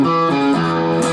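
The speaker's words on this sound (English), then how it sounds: "Sort of connecting now with the rhythm guitar part, the main part." Electric guitar playing the main rhythm part of the Rolling Stones' Rocks Off, with sustained, slightly overdriven chords ringing out and a change of chord partway through, loud and alone.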